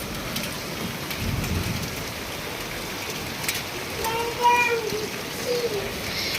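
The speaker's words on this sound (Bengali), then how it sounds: "এই জোরে বৃষ্টি নেমে গেছে দেখো।" Heavy rain pouring down in a steady, dense hiss that stays loud and even, with a faint bird call partway through.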